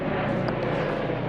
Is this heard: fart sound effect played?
no